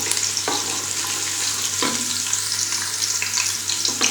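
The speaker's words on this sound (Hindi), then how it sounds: "इसमें मैं लहसुन डाल देती हूँ।" Garlic fries in oil inside a pressure cooker, a steady bright sizzle with occasional stirring scrapes and soft clinks, close and without talk.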